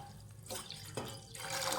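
Water splashes and pours into a pot in a home kitchen, heated for kneading rice flour dough, in a few brief uneven gushes, close and fairly quiet.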